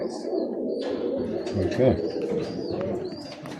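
Young Birmingham Roller pigeons cooing steadily at close range over a low murmur of flock noise, with a man's brief word heard among the birds.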